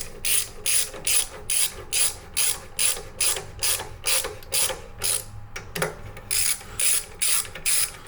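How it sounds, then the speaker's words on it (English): A ratchet cranks down the bolts on freestyle motor mounts, with about a dozen evenly spaced bursts of quick metallic clicking, close and clear. "You see what it's doing right now when we're tightening up the bolt"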